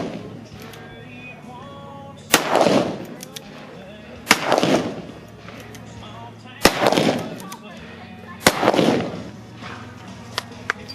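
Four loud firearm shots fired at a mounted shooting setting, spaced about two seconds apart, each a sharp crack with a booming tail, over steady low background noise and quiet talk.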